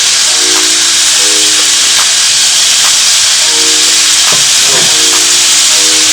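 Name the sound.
filling cooking and hissing in pot while stirred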